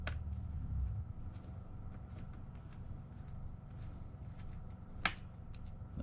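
RAM module retention clips on an Alienware M15 laptop snap open with one sharp, close click midway through, over steady low background noise.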